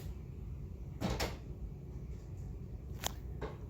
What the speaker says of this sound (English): Hey, shut that door.